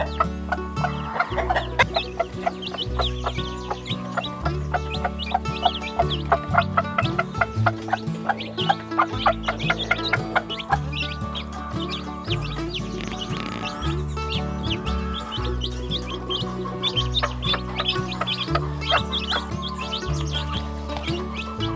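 New Hampshire hens cluck and chatter continuously nearby, with many overlapping calls and occasional higher chirps forming a busy, rhythmic flock sound.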